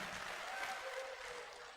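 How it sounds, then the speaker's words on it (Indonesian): Brief, faint applause from an audience at a university orientation event, a soft wash of distant clapping lasting under two seconds, with a faint tone sounding through it. "Tepuk tangan."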